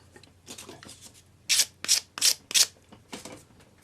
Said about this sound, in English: use your sanding stick